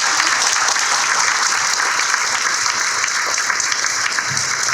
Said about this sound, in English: I'd love to get a round of applause for our